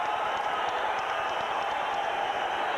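A boxing arena crowd at a Friday night fight roars and applauds in a steady, dense wash of cheering and clapping, with no single voice standing out.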